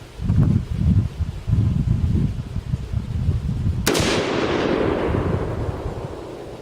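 A single loud rifle shot fired while sighting in a rifle at about 25 yards, a sharp crack with a long fading echo, heard after a stretch of low rumbling background noise.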